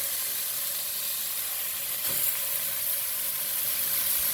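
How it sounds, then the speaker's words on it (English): Bacon sizzling and crackling steadily in a hot pan, a continuous bright hiss close up with no talking. "Listen to that sizzle."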